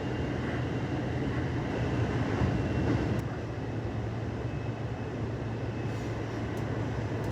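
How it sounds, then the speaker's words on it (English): Inside a suburban train between Osaka and Nara, a steady low rumble and hum of the carriage running along the rails, even and moderately quiet throughout, with no talk. "We make our way through the Osaka suburbs on our way to Nara, which is about a 40-minute train ride"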